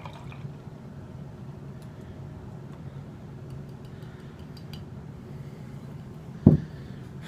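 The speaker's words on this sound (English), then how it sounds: "Straight out of the bottle, it pours extremely dark brown." Southern Tier 2X Double Milk Stout poured from a bottle into a glass, a quiet, steady liquid trickle and glugging under room noise, ending in a sharp clink near the end.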